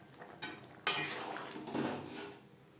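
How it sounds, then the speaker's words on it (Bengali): Garam masala powder being stirred into a simmering chicken biryani gravy in a metal pot, with close scraping and clattering of a spoon against the sides and a faint sizzle from the heat, with no voices. "গ্রেভির সাথে গরম মশলা পাউডার বেশ ভালো করে মিক্সড করে দেব"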